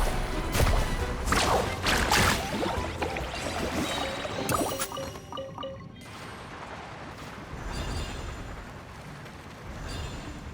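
Mualani carving waves across water in Genshin Impact, splashing whooshes and surging liquid rushes with a few sharp bursts early on, then a calmer steady wash of water, close and fairly loud.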